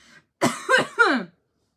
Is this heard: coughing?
yes